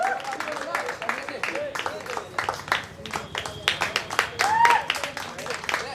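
Audience clapping for a chief guest at a commemorative gathering, steady applause with a voice talking over it throughout.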